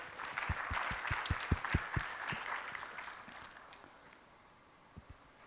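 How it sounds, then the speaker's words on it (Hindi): Seminar attendees at a marriage-and-purpose talk in Gujarat burst into clapping. A few loud, close hand claps stand out over the general applause, which gradually thins and fades, leaving a couple of late stray claps near the end. "ताली खुल के बजा सकते हैं।"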